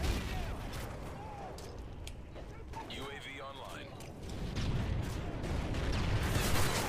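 Gunfire in Call of Duty: Modern Warfare 3, rounds fired through building walls, heard as a continuous rattle of shots and bursts spread across the whole stretch, with speech over the top.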